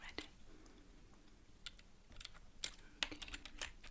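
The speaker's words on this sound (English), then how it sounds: "I'm just going to be typing the answers into the computer" Soft, irregular typing on a computer keyboard in a quiet ASMR sleep-clinic setting, scattered clicks close to the microphone with faint whispery breath between.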